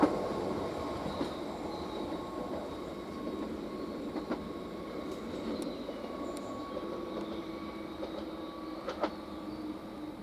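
Class 755 train 755-338 at Westerfield station, a moderate rumble with thin tonal whines and brief metallic squeals and clicks, heard at the platform without talk.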